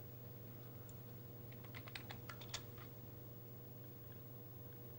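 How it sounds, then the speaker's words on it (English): Faint computer keyboard typing during a poker broadcast, a short cluster of light clicking keystrokes in the middle over a steady low electrical hum, with no talking. "Maybe he's typing."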